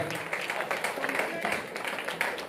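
Audience applause for prize-winning students at a district-level English elocution competition prize distribution in Solapur, a dense steady crowd clapping sustained throughout at moderate loudness.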